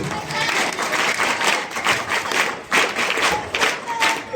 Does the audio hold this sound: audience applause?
yes